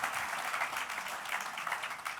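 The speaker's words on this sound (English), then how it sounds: "Give them a round of applause." Applause from an audience at a company AGM for the events team: a steady wash of many hands clapping, fairly quiet and distant, sustained without pause throughout.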